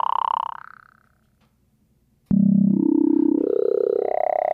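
A Malstrom synthesizer tone using the vocoder bands grain table, sweeping from low to high in a buzzy voice-like tone; one sweep fades to silence, then a second starts abruptly and glides upward.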